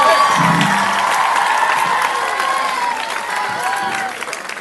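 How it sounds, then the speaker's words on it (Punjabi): Students at a government school event in Patiala are applauded by a crowd, with loud, steady clapping mixed with children's cheering and shouting that slowly fades toward the end. "ਤਾੜੀਆਂ ਲੱਗ ਵੱਜਦੀਆਂ ਰਹਿਣੀਆਂ ਚਾਹੀਦੀਆਂ ਲਗਾਤਾਰ"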